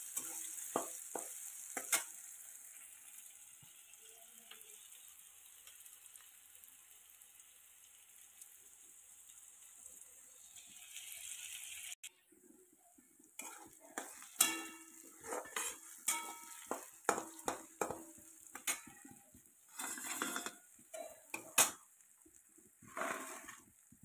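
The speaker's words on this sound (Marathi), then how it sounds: "तंबाट पण चांगलं भाजून घ्यायचं आहे." Tomatoes frying in a pan for a fish curry, a soft hiss that turns into close scraping and clinking stir strokes partway through.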